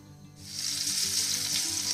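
Hilsa fish pieces hit hot oil in a frying pan, and after a brief quiet moment a loud, steady sizzle rises and continues close by.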